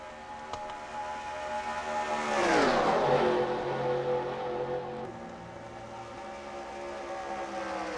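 Race cars in the NASCAR Racing 2003 video game at Daytona, a steady engine roar with one car sweeping past around the middle, rising and then dropping in pitch before settling back into the pack drone.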